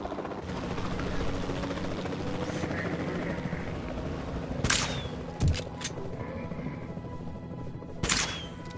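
A helicopter in the video game Jurassic World Evolution 2 drones steadily throughout, a constant rotor rumble with a few sharp mechanical clicks and shots cutting in over it, no talking.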